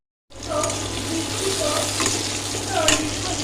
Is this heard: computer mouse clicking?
no